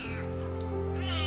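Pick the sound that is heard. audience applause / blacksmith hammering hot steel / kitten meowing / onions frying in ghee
kitten meowing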